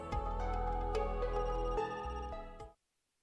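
A telephone in the video game Another Code Recollection rings with a bright electronic ringtone melody, loud and continuous for almost three seconds before it stops abruptly into silence.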